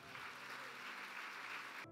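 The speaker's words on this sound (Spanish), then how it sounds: "Denle un aplauso fuerte al Señor." A church congregation applauds loudly and steadily, a dense wash of clapping that fills the space for almost two seconds before cutting off abruptly.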